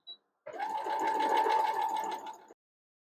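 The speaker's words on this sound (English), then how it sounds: "I'm sewing at a reduced speed for you all." A sewing machine set to slow speed stitches quilt pieces in one steady mechanical hum of about two seconds. The run starts and stops abruptly, with a tiny click just before it and silence on either side.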